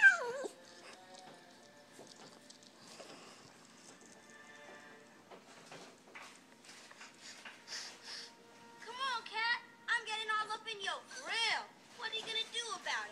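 A dog watching TV whimpers faintly at first, then gives louder wavering whines and yelps toward the end, mixed with sounds from the TV.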